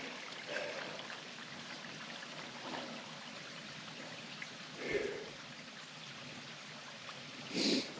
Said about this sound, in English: is there anything quite as nice as a babbling brook in the mountains?